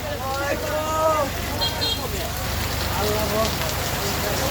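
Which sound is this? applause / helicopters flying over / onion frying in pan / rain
rain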